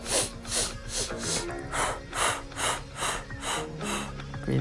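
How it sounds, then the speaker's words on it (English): Deep, rhythmic breaths drawn in and pushed out through the nose during a stretching and relaxation routine, about nine close, loud breath cycles in quick succession. "Breathing in through your nose."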